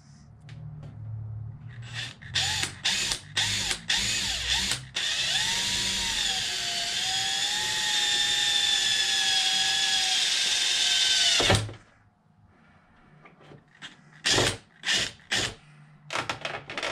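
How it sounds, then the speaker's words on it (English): A power drill bores a hole through a windshield piece for an Arrma Mojave 8s RC car, with short stuttering bursts before a long continuous whine that rises slightly, then stops, followed by a few more quick trigger pulses. "the next thing to do is to drill a hole down in here so I can bolt it"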